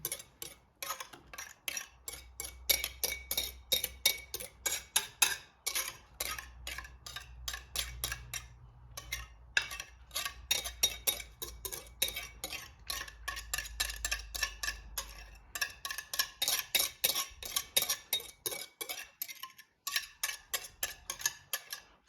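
Thick lemon curd mixture is scooped into a small pot, making a quick, irregular run of sharp spoon taps and scrapes against the pot, close and fairly quiet, with brief pauses between bursts.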